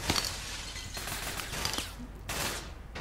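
Silenced ATAC Watchman shots in APB Reloaded, a few muffled bursts spaced through a steady game soundscape, moderately loud with no voices.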